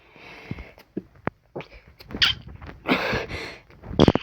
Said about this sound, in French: Ah, désolé. Voilà, atchoum.